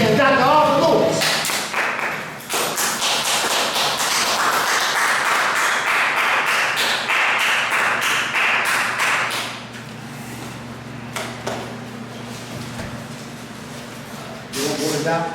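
Applause from a lecture audience greeting a keynote speaker, dense clapping building for several seconds then thinning into scattered claps, with murmuring voices and room noise underneath.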